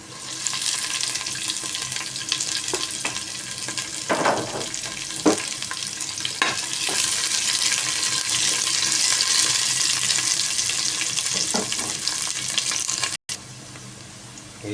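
Onions frying in a pan for a Filipino sautéed mixed-vegetable dish with dried fish, a steady broadband sizzle running throughout with a few clinks and stirring knocks, close and fairly loud.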